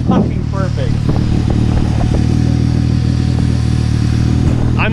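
A motorcycle-type engine idles steadily with Mountain Dew used in place of oil, a constant low rumbling drone with faint mechanical clatter running close and loud through the whole stretch, while a person talks over it.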